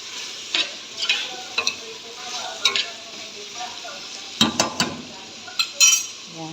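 Food sizzles in a pan under a steady hiss while a utensil scrapes and clinks against the metal in irregular bursts, close by.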